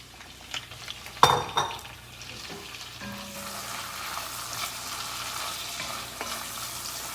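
Shrimp dropped into hot butter and oil with a clatter, then a steady sizzle that builds and holds close by for several seconds with a few faint utensil clinks and no talk.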